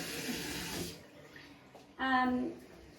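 Hands are rinsed under a running tap for about a second, a soft steady gush that stops abruptly, followed by a brief voice.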